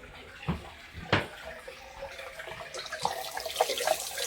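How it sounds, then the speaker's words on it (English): Hot water running from a tap after a Baxi combi boiler repair, a close splashing gush that starts with a couple of sputtering bursts, then builds into a steady rushing flow. "let's see if we've got hot water here"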